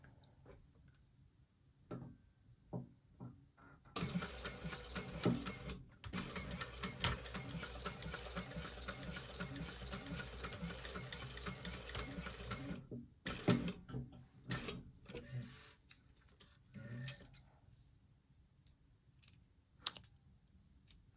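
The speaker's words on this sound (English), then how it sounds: "you're going to want to back stitch the beginning and end of the seam." A sewing machine stitches a backpack seam, back stitching at the start and end, heard as a dense mechanical whir and clicking that runs steadily for about nine seconds, then resumes briefly in short bursts amid quiet handling sounds.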